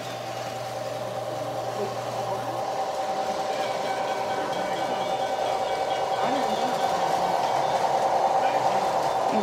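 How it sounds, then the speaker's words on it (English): A small relay-controlled model train hums and whirs along its track steadily, with a faint electric whine and voices murmuring in the background. "I like that little train over there."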